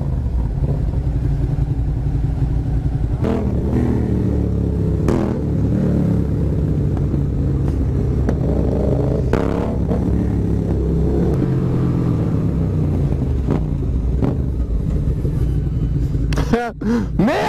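A motorcycle engine revs during a ride, a loud, continuous rumble with rising and falling pitch and clattering bursts. People talk over the engine noise.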